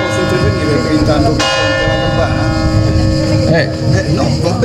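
A church bell rings loudly and steadily with dense overlapping harmonics, struck again partway through so a fresh peal swells over the lingering hum, with low background rumble throughout.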